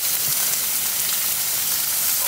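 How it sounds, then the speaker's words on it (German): Venison shoulder sizzles steadily in a hot frying pan over an outdoor wilderness cooking fire, a dense continuous hiss filling the whole stretch with no talking. "jetzt kommt das gute Rehblatt in die Pfanne"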